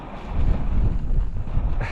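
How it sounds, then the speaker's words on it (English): Strong wind buffeting a microphone at a wild camp, a loud, continuous low rumble with gusty surges throughout. "Oh my god, it's so windy."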